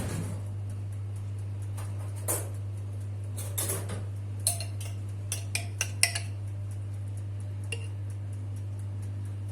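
A metal spoon scrapes and clinks lightly inside a nearly empty jar of store-bought strawberry jam. The scattered small taps sound close but faint over a steady low electrical hum.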